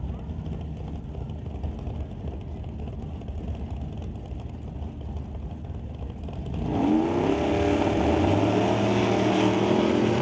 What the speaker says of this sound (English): Charles spins the wheels over here at TCS side